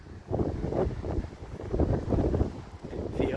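Steady wind gusting outdoors on an afternoon in a natural spot in Sydney, buffeting the microphone with a low rushing roar that swells and eases without pause, no voices.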